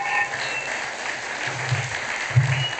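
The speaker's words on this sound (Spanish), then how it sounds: "un aplauso y un reconocimiento para Sergio." Audience applauds at a book launch, a moderate, fairly even patter of clapping with low murmurs underneath.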